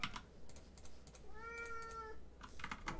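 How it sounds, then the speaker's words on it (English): A cat meows with a rising, drawn-out call over soft keyboard typing during play of the PC game Might and Magic VI; the meow sits mid-clip, faint and close, with clicks of keys before and after. "Meow, you can be on my lap, kitty cat."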